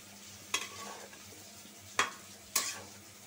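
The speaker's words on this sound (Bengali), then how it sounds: "আমি ডাইটা তরকারিটা কষাই নিই 10 মিনিট" A curry is sautéed in a pan, a soft continuous sizzle broken by three sharp scraping strokes of a spatula, close and without talking.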